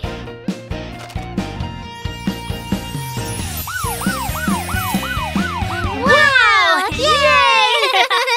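A police car siren in a children's cartoon song wails in rising and falling sweeps over bouncy music, loud and upfront. A child-like voice is heard along with it.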